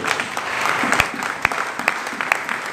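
Church congregation applauding to acclaim God, a steady wash of clapping from many hands with a few sharper individual claps standing out.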